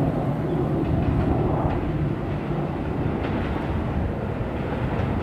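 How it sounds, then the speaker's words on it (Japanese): A Seibu 6000 series ten-car express train for Seibu-Shinjuku rumbles loudly into platform 3 of a Seibu Shinjuku Line station, its low roar and rhythmic clatter of wheels on rails steady and close throughout. "まもなく3番ホームに急行西武新宿行きが10両編成で参ります。"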